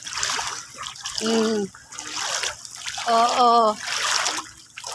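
Floodwater runs and trickles steadily across the grounds of a marine fish hatchery, close by, while someone talks over it and gives a brief exclamation.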